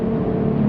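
Infiniti G35/G37 with an automatic transmission in sport mode, downshifting and pulling away: a steady, loud low engine drone with a sustained midrange hum, close by and without talk.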